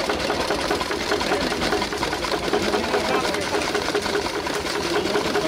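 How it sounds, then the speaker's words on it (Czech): An old stationary engine drives a grain crusher grinding feed grain for cattle at a historic ploughing show, giving a loud, steady, dense mechanical rattle and drone that runs unbroken throughout. "stroj už nám například šrotuje obilí pro dobytek"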